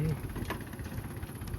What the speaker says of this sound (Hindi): ट्रैक्टर चल नहीं पा रहा।